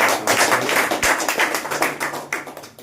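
Brief burst of applause from a crowd at a human rights awareness meeting, dense and steady clapping that tapers slightly toward the end.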